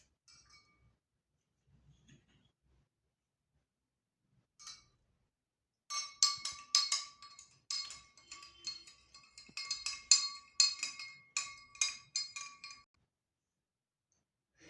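A metal spoon stirs salt into water in a glass, giving a quick run of bright, close clinks and taps that starts suddenly and lasts several seconds before stopping, with quiet before it.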